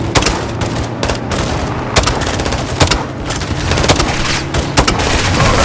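Rapid bursts of gunfire and booming launcher blasts in a Call of Duty: Modern Warfare II campaign firefight, dense and continuous with overlapping shots throughout.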